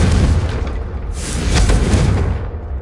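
A Confringo blasting spell explodes in the Hogwarts Legacy video game, a loud, rumbling boom with a second burst swelling around the middle and a low roar trailing off.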